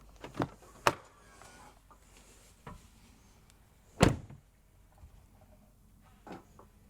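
A Chevrolet Silverado truck door fitted with Amp Research power steps shuts with a sharp thud while the step is held down, with a few lighter knocks and clicks around it.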